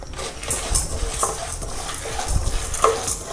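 Black pepper and dried red chillies roasting dry in a pan, with soft scraping stirs and light rattling of the spices against the metal, close and steady, no voices.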